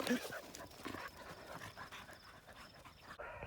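Working farm dogs pant close by in a rough, rapid breathy rhythm that runs steadily throughout, with a faint whimper early on and some background noise mixed in.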